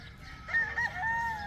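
A black Kelso gamefowl rooster crows in a steady, fairly close call lasting over a second, with a wavering tone rising partway through and a faint outdoor background.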